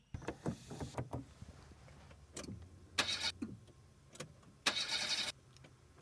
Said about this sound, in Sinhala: එන්ජින් එක මිස් කරනවා වගේනේ.